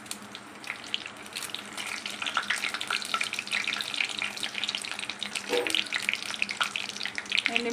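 Dried red chilies broken into a kadai with hot oil, mustard seeds and cumin sizzle and crackle steadily up close, with scattered sharper pops and light stirring scrapes throughout.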